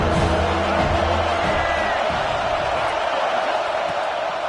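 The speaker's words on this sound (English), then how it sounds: "This crowd knows when to bring it." Football stadium crowd roaring and cheering at a USC game, a loud, sustained wash of voices filling the whole stretch with no single voice standing out.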